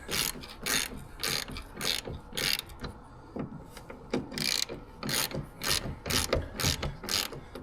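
Ratchet wrench clicking in quick bursts while loosening bracket bolts on the rusty rear end of a bus, close up, with brief pauses between runs and no voices.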